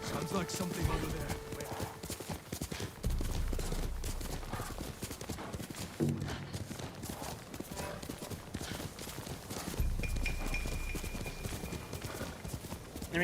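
Horse hooves clip-clop at a gallop through Ghost of Tsushima's game world, steady and close, with occasional whinnies and a player talking over the ride.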